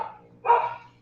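One short dog bark sounds at a distance, faint over a low background hum, between pauses in a lecture.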